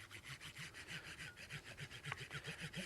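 A diamond rod works along a knife's serrated edge in quick, even back-and-forth strokes, a steady rhythmic rasping scrape repeated about fifteen times, close and fairly quiet with no talking.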